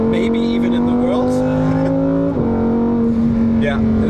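A high-mileage Lamborghini Huracan EVO RWD engine drones loud and close on a Black Forest drive, its pitch climbing steadily, dipping briefly at a gear change, then rising again, with a voice talking over it.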